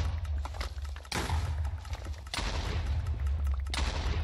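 Explosions from a tree-growing mod in the Minecraft modpack GiraffeCraft, heard as a few sharp, loud bursts with crackling tails spaced across a few seconds, with no talking over them.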